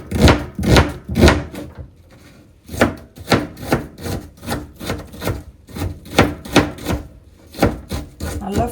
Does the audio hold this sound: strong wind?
no